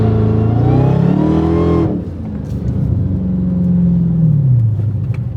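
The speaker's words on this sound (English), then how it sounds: "I'm gonna put my foot all the way down." A Dodge Hellcat Charger's supercharged engine roars at full throttle with the accelerator floored, a loud close revving surge that cuts off abruptly, then drops to a lower rumbling idle that swells and eases.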